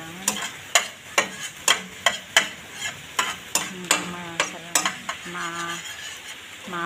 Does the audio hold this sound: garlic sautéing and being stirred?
yes